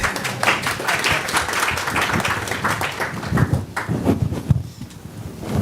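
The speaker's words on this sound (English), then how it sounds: "At least some hand clap for our team" Applause from a summit audience on African security partnerships, a scattered, uneven patter of clapping hands that grows sparser and more irregular, with a few louder individual claps near the end.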